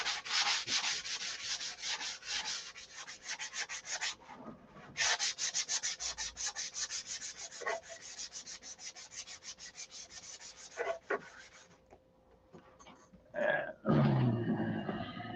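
Steady, close rasping of sandpaper rubbed back and forth over a surface, with brief pauses and a few louder scrapes near the end.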